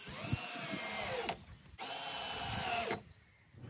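A power drill drives 2-inch Starhead multi-purpose screws into pallet wood for a DIY bar, in two close, sustained whirring bursts separated by a short pause.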